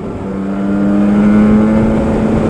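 A Yamaha RD250 LC two-stroke motorcycle engine held at steady revs while riding, a loud, sustained buzzing drone that rises slightly in pitch, alone with no talk.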